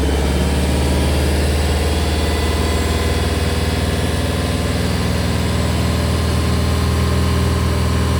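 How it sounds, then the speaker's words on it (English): A Subaru WRX wagon running rich while being tuned, fitted with ID1050 injectors and a VF48 turbo, idles with a steady, close, loud engine drone and vibration, and no one speaks. "Still idling here."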